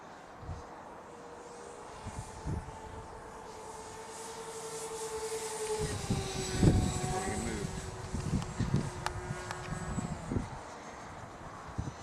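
A steady twin-motor whine from a model airplane, several faint voices, and wind gusts; the drone rises in loudness and pitch midway as the plane passes closer overhead.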